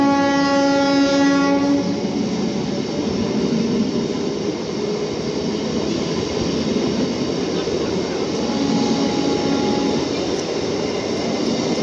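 Passenger train running on the line, a long horn blast at the start, then a loud continuous rumble and rattle of wagons with faint clickety-clack, heard from on board.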